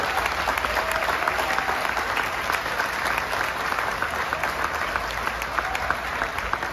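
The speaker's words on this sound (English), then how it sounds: "Please give them a huge round of applause." Crowd applause at the Musikfest 2023 opening ceremony, a thick, even roar of many hands clapping held at steady volume throughout, with no gaps.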